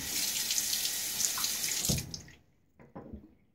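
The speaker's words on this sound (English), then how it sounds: "A little halfway rinse." A tap runs steadily while a safety razor is rinsed mid-shave, a full broadband water rush that stops abruptly about two seconds in, followed by a couple of faint clinks and drips.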